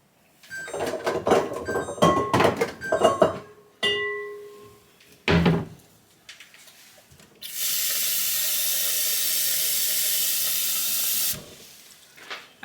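Tap water runs steadily into a bowl for several seconds as a loud, even hiss, preceded by clattering knocks and handling sounds in a kitchen; no talking.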